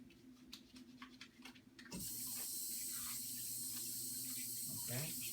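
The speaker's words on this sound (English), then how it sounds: "I'm going to wash my hand." A tap is turned on and runs steadily into a sink while hands are washed under it during a venipuncture demonstration, the loud rushing water starting abruptly after a quieter moment with faint background sounds.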